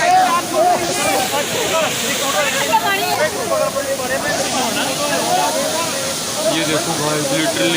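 Bhagsunag waterfall pours in a steady, dense roar of rushing water close by, with wind buffeting the microphone while someone talks over it.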